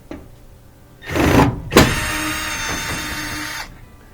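A power driver whirs in two bursts while backing screws out of the corner of a front-load washer's panel: a short spin, then a longer steady motor drone lasting about two seconds, close and loud, with no talking.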